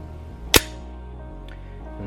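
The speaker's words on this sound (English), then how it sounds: "I'll put my mag back in, make sure it locks back." A Smith & Wesson M&P pistol during cleaning, its magazine seated and slide locking back, giving one sharp, loud metallic snap that is followed by a quiet background hum.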